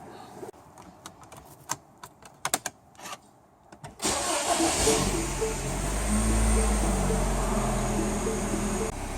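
A car engine cranks and catches after a transmission fluid fill on a TF60SN/09G gearbox, settling into a steady close idle hum after a few seconds of clicks and handling noises.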